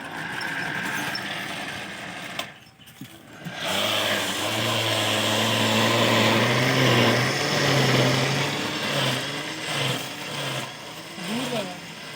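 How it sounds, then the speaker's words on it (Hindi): Electric grinder powered from a UPS grinding corn for a sweet corn dessert, a continuous loud motor whine and rattle that dips briefly then resumes strongly, with some voice in the background. "इसके साथ हमने ये ग्राइंडर कनेक्ट किया है और यहीं पे हम इसको ग्राइंड कर लेंगे।"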